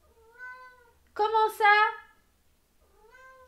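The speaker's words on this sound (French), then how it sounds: "Pardonnez-moi, c'est mon chat qui me parle." A pet cat meows in bursts at the start and end, with a louder, longer run of meows in the middle, close to the microphone; someone speaks briefly in French between them.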